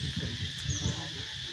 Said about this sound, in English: I love the cicadas here, and it's just only here, this one area.